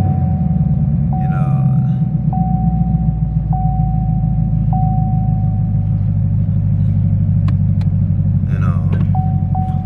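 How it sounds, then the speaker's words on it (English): A 2018 Chevrolet Camaro SS engine runs with a deep, steady low rumble close by, while a repeating electronic chime beeps at even intervals above it. "Go ahead and start this car real quick."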